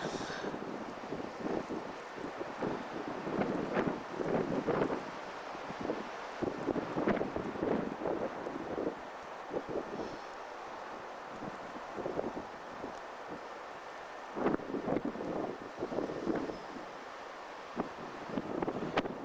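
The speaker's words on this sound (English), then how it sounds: "we're getting a bit of a breeze up here" Wind buffets a high natural arch at 8,819 feet, with gusty rumbling bursts that rise and fall and broad rushing noise over the microphone, fairly faint and with no talking.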